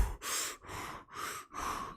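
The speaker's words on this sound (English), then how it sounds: "breathing all hard" A person breathing heavily and close up: four strong, rhythmic breaths, each a loud airy rush separated by brief pauses, with no speech.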